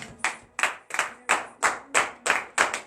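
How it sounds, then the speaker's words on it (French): A church congregation at a morning prayer service claps in unison in acclamation, about eight sharp, evenly spaced beats with a slight echo and no voices. "Donnez l'acclamation à l'Éternel."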